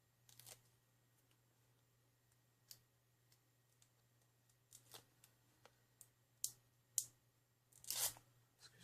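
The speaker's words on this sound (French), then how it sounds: "je suis concentrée à enlever mon scotch qui est des fois un peu chiant" Adhesive tape being peeled off a handmade Easter card, heard as sparse, quiet tearing rips and clicks spread across a hushed room, with a few sharper, louder peels near the end.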